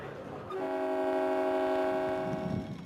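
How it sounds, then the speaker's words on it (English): A train horn blows one long, sustained toot, loud and held for a couple of seconds before fading. "What goes choo-choo? Train."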